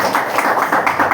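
A short run of crisp hand claps, roughly five quick, evenly spaced strikes, close and fairly loud with no talk over them.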